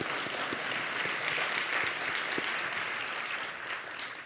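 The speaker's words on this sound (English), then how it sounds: "yeah, we can clap for the Enoch Pratt." An audience applauds for the Enoch Pratt library during a mayoral State of the City address, a steady, dense wash of many hands clapping that holds through the whole span and eases slightly at the end.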